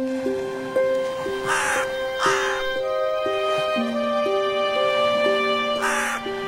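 A crow in a Kazakh animated film gives about three harsh caws, spaced apart over a steady, melodic music background.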